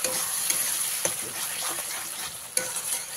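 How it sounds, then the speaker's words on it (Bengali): Well-fried masala that has released its oil is stirred in a pan for katla fish curry. A continuous close sizzle is broken by a few sharp spatula knocks against the pan. "এবারে খুব ভালো করে একবার মিশিয়ে দিতে হবে"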